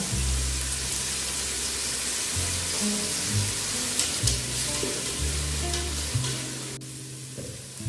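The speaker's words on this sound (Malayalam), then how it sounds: "ഇനി ഇതിലേക്ക് ഗ്രാമ്പു പട്ട ഏലക്കായ എന്നിവ ചേർത്ത് കൊടുക്കാം" Whole cloves, cinnamon and cardamom go into salted onions frying in a pan for chicken madhooth, giving a steady close sizzle with stirring scrapes throughout, no voices.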